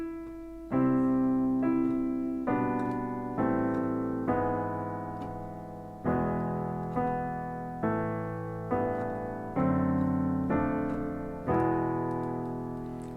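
Solo piano plays a slow section of the carol O Little Town of Bethlehem, steady chords and melody notes struck one after another in a gentle triple-time rhythm, each decaying before the next.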